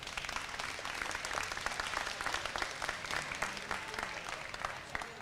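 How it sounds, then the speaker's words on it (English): A crowd at a county fair livestock arena applauds steadily after a sheep showmanship class. The clapping is dense and continuous, holds at an even level for several seconds, and has no voices over it. "Please give them a round of applause."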